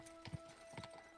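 Horse hooves clip-clop in Kingdom Come Deliverance 2, a few soft, fairly distant thuds in an uneven gallop under a steady low game hum.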